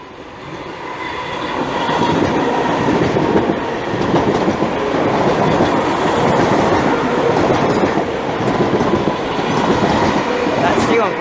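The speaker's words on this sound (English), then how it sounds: "And we've got London Overground." A London Overground train passes through Bethnal Green station, a loud, sustained rumble and rhythmic wheel clatter that swells after the first second and stays close and steady to the end.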